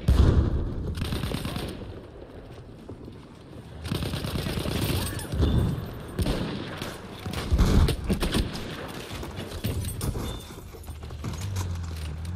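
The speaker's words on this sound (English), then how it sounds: "the hip fire on this M-18 trench, if you need a kind of a solid performance" Hip fire from the M-18 Trench gun in Battlefield 1, a pump shotgun, with several loud booming shots spaced a few seconds apart over continuous battlefield noise and rumble, no voices.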